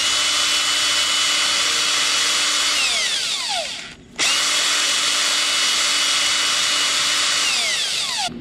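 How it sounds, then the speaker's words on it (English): A small rotary power tool with an abrasive bit sands corrosion off boat trailer light connectors, giving a close, steady high whine that dips and cuts out briefly midway before spinning back up at full speed. "When it does, you can go ahead and sand that."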